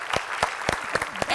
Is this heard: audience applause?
yes